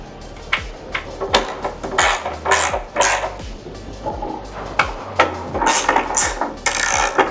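Chiseling during an electric motorcycle conversion: a close series of sharp, uneven metallic clanks and scrapes, struck in an irregular rhythm with brief gaps between hits.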